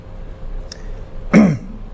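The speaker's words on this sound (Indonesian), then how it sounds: "Batuk saya kok." A single short, throaty cough bursts out near the end, close and fairly loud over a quiet room, after a faint brief click.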